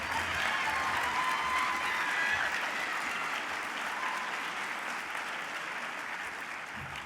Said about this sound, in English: Round of applause for all of our finalists and Student Veteran of the Year.